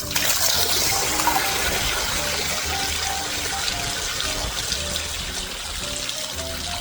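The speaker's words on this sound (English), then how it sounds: "you saw how much sludge came out compared to how much water came out of that" Water and sludge gush steadily out of an opened septic tank, a continuous splashing, trickling rush heard up close with no talking over it.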